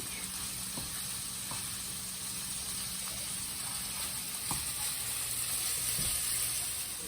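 Sausage browning in a pan, a steady close sizzle and hiss with occasional faint taps of a spatula.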